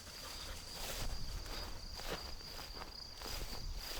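Crickets chirp in a steady, faint high-pitched drone through a quiet night, with soft rustling and footsteps moving nearby underneath.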